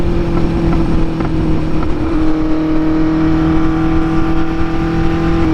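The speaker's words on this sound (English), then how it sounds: "It's such a cool sounding bike." A 1974 Honda CB400F motorcycle cruises along, its four-cylinder engine humming loud and close in a steady, even drone with a constant pitch and wind rush underneath.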